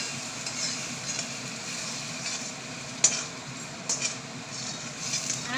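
Garlicky masala for dum aloo being stirred in a pan: a continuous low sizzle with intermittent scraping strokes of a spoon and a few brief clinks, fairly quiet and without speech.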